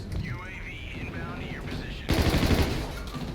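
Rapid SMG bursts in the video game Call of Duty: Infinite Warfare on PC, a loud rattling volley in the second half after quieter game sounds, with a voice speaking over it.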